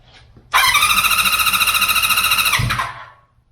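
A 1973 Honda CB350F motorcycle engine catches and runs for about two seconds with a loud, close, evenly pulsing buzz, then cuts out and fades.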